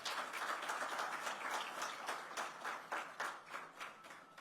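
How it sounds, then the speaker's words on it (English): Faint applause from the audience at a keynote address in Madhya Pradesh, a soft wash of many hands that thins into scattered, distinct claps toward the end. "let's give him a very warm round of applause for this"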